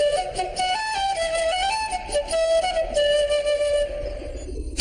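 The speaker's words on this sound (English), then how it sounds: "It's a flute." A flute plays a gentle, sustained melody with breathy tone, steady and moderately loud, alone without voices.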